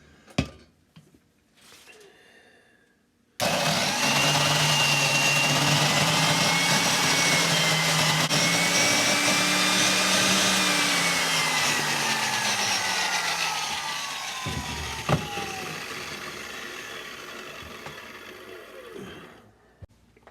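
A valve seat grinder runs on a Caterpillar 60 engine head, a loud steady whirring grind with droning tones that starts abruptly, holds for about sixteen seconds, then slowly winds down and stops.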